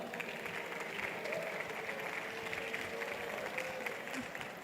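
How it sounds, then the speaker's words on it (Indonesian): University students at a send-off ceremony for community service participants applaud together, a moderate, continuous patter of many hands with faint murmuring beneath it. "Tepuk tangan dulu dong buat teman-teman yang dari luar Jawa."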